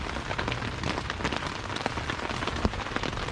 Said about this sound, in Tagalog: Maganda yung ulan. Ganyan yung magandang ulan eh. Yung ambon lang.